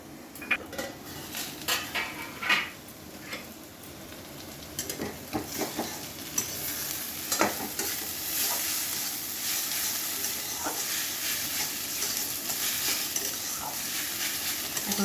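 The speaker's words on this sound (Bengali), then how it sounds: "একটু নাড়াচাড়া করে একটু ভাজতে হবে ঝিঙ্গাটা" Ridge gourd frying in a pan while being stirred, a spatula clanking and scraping against the metal in bursts early on, then a steadier close sizzle with occasional knocks.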